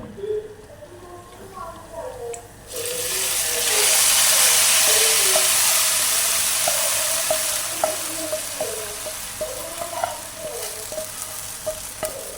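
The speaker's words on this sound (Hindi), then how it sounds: "इसका तड़का लगाना है" Tadka for mutton nihari hits the pan with a sudden loud hiss, then sizzles steadily while a spoon clinks and scrapes in a repeated stirring rhythm.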